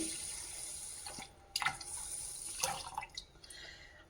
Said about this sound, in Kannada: ಈಗ ಅದಕ್ಕೆ ನೀರು ಹಾಕ್ತಾ ಇದ್ದೀನಿ